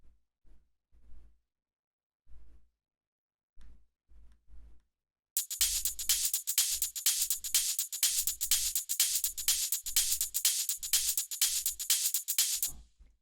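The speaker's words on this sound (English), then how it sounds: "So the next thing we have here are these hi-hats, which all together sound like this." Hi-hats in a Toolroom-style house track enter about halfway, a bright, steady run of crisp rapid ticks layered over the punchy low kick thumps that pulse alone beforehand.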